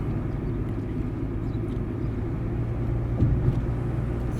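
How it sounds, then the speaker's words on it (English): Steady low road rumble of a car being driven home from work, a continuous engine and tyre drone filling the cabin with no voices over it. "I'm driving home from work now."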